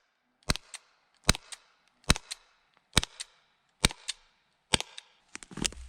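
A Walther PPQ M2 LE Gen2 less-lethal pistol fires aluminum balls: six sharp, evenly spaced cracks, each followed at once by a quick impact smack, with near silence between shots.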